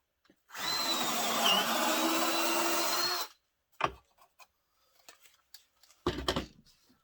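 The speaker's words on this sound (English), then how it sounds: "I always drill a smaller hole first, and then I step up to the size I want." A power drill whirs steadily through wood for about three seconds, drilling a small pilot hole in a model railroad flat car, then stops; a few clicks and handling knocks follow, with another short burst near the end.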